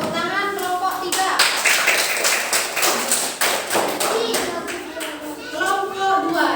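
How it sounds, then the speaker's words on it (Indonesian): Students in a classroom clap for a group, a sustained run of sharp, fairly close hand claps with a brisk uneven rhythm, overlapped by children's voices. "Tepuk tangan kelompok 3"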